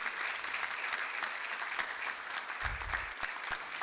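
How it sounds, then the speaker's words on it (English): Audience applause for board members at a regular board session, steady clapping from a modest crowd in a room, with a few sharper individual claps and a low thump near the end. "Would you join me in giving our board members a big collective round of applause"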